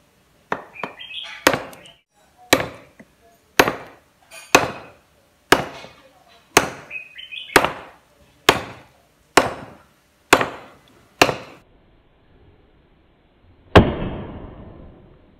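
A knife blade of 80CrV2 steel chops into a hard, dense hardwood log with about eleven sharp, evenly spaced woody thunks. They ring close and loud, and a heavier final blow follows after a short pause.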